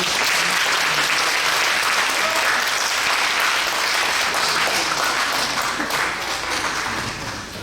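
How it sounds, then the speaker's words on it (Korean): A congregation at a Korean church inauguration service gives a group a long, dense round of applause that fills the space and fades slightly near the end. "저 친구들에게 큰 박수 한번 보내주시기 바랍니다."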